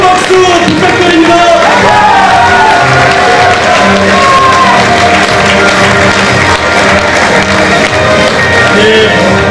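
A party convention crowd electing a party leader and youth chairperson breaks into loud, sustained applause mixed with cheers and shouts, a dense roar filling the whole stretch.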